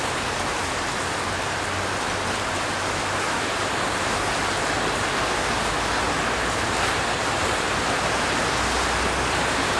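Heavy rain pours down in Manila, a dense, constant roar of water hitting surfaces that fills the whole stretch without a break. It is loud and even, and no voices are heard.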